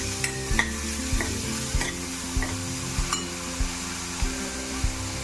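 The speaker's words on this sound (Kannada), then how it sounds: "ಈರುಳ್ಳಿ ಹೂವು ಹಾಕಿ ಸ್ವಲ್ಪ ಬಾಡಿಸೋಣ" Spring onion sautéing in a hot pan, with a steady sizzle and regular scraping strokes of a spatula about every half second, close and fairly loud, no voices.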